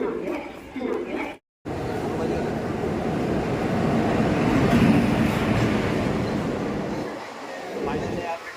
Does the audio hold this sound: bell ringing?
no